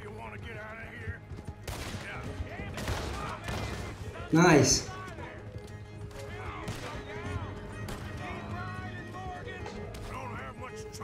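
Bursts of rapid gunfire in Red Dead Redemption 2 crackle under excited Hindi talking, with a sharp loud volley around the middle of the clip.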